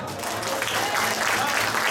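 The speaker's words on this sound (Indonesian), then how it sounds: "Tepuk tangan dong semua." Audience applause at a motivational seminar, a dense continuous patter of many hands clapping that swells slightly toward the end.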